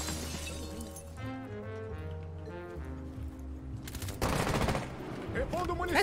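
Gunfire from a gun in the video game Rainbow Six Siege: rapid bursts of shots and sharp impacts over busy game sounds, with faint voices in the background.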